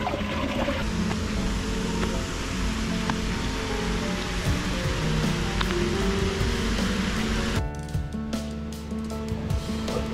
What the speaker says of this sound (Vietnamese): Ở đây có cái thác nước khá là đẹp